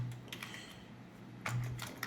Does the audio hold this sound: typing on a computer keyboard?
yes